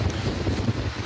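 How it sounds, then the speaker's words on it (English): Strong wind gusts buffet the microphone near massive coastal cliffs at a clifftop campsite, a loud rumbling roar with no voices. "it's pretty windy out here."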